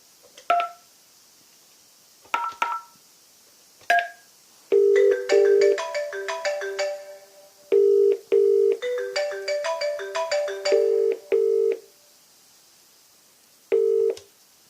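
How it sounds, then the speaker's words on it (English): A SIP call between a desk phone and a tablet: short beeping dial tones tap out first, then a repeating electronic ringtone plays in evenly spaced bursts with pauses between, clear and close. "I'm calling between a desk phone and a tablet."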